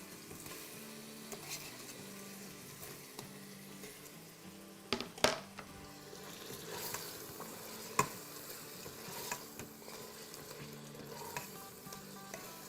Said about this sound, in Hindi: बस अब हम इसमें अपने टोमेटोज़ भी डाल देते हैं